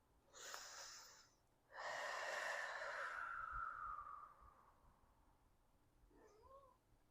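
A house cat gives two drawn-out, breathy meows nearby, the second longer with a falling tail, followed by a faint short chirp in an otherwise quiet room.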